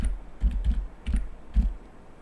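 A computer keyboard being typed on at a close distance: about five distinct keystrokes in an uneven rhythm, entering a search term into the Rajkaj e-file government office software. No one speaks.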